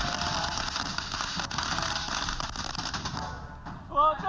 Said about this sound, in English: Microwave, more fireworks. And then we threw in a bigger firework.